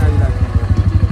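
A scooter engine runs close by with a loud, steady, rapid puttering rhythm, while people talk over it.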